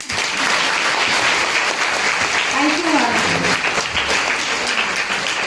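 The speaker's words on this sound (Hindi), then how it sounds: "इस बात पे आप सबके लिए तालियां" Sustained audience applause fills a motivational lecture hall, a dense steady wash of clapping from start to finish, with a voice briefly speaking over it.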